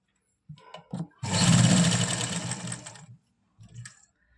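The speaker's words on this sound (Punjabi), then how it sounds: "ਲਓ ਜੀ ਹੁਣ ਮੈਂ ਇਹਨੂੰ ਪੂਰੇ ਧਿਆਨ ਨਾਲ ਸਲਾਈ ਕਰ ਲਾਂ" Sewing machine stitching in a short continuous run of about two seconds, loud and close, with a few brief taps and clicks just before and after.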